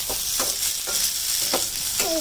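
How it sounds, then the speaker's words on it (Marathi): Boiled potatoes being lightly fried and stirred in a pan for sabudana khichdi, giving a steady close sizzle with repeated scraping strokes of the spoon about every half second. "बटाटे थोडेसे उकळलेले असल्याने थोडेसे हलकेसे फ्राय करून घ्यायचे"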